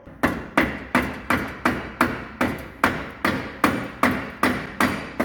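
A hammer strikes repeatedly in a steady rhythm, about two blows per second, each a sharp loud impact with a short ringing decay, close by.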